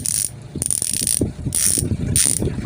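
HASSNS Pro 7 bicycle freehub ratcheting in several loud, close bursts of fast, sharp clicking, alternating with brief quieter gaps as the wheel is spun and stopped.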